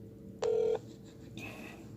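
A phone keypad beeps with a short electronic dialing tone, followed by faint ringing or connecting tones at low volume.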